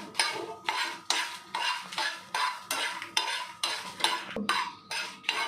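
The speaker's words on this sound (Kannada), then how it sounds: "ಇವಾಗ ಒಣಮೆಣ್ಸಿನ್ಕಾಯಿ 7ರಿಂದ 8 ತೊಗೊಂಡಿದ್ನಲ್ಲ, ಅದನ್ನು ಲೈಟಾಗಿ ಹುರ್ಕೋತಾ ಇದ್ದೀನಿ" Dry red chillies lightly roasting in a pan, a utensil scraping and stirring in a steady rhythmic back-and-forth, about a dozen clear strokes with faint sizzle underneath, no talk.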